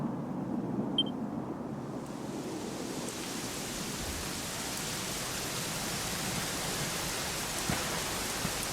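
Steady rain in a Dragon Quest XI video game pours down in a continuous hiss, with a soft low rumble beneath it and no voices.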